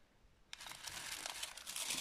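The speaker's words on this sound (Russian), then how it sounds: "упаковываю в пакет" A plastic bag crinkles as it is handled while a rooted begonia leaf cutting is packed inside. The rustling starts abruptly after a quiet moment and then continues as steady close crackling.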